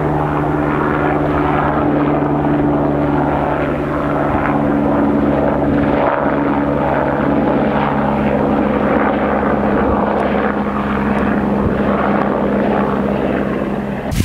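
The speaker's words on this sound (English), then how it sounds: "oh, helicopter coming through," A helicopter passes overhead at a ski area in British Columbia, a loud sustained rotor drone and engine whine filling the whole stretch with steady intensity.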